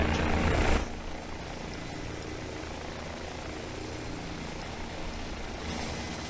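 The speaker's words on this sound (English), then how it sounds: "I'm going to go ahead and shut down the main engine." Main engine of a Dani D-139 helicopter in a simulator shutting down, a loud turbine roar that drops sharply early on, then a steady, dense whine and rotor rumble that continues without voices.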